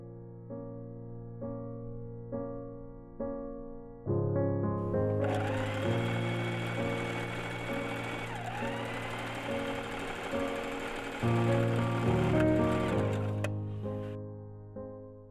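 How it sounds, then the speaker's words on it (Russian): Sewing machine stitching folded sleeves on a shirt made from a vintage tablecloth, a steady mechanical whirring hum that starts and stops a few times, close and moderately loud with no talking. "Рукава складываю и прошиваю."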